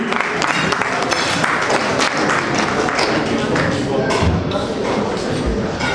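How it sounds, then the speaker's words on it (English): A crowd at a Nigerian event applauds as a commissioner is called to the stage, loud, dense clapping throughout with scattered thumps and shuffling of people moving, and some talk mixed in. "A round of applause for him."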